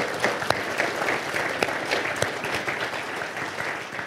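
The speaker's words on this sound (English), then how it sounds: "So I want to give a round of applause to our speakers." Audience applause for speakers at a wine industry symposium on the wholesale channel: dense, close clapping from a room of people, with sharp individual claps standing out in a lively, sustained round.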